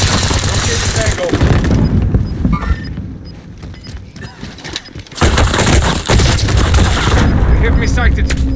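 Automatic gunfire from Call of Duty Warzone Rebirth, loud rapid bursts rattling on and off with a lull in the middle, mixed with game effects and some talk.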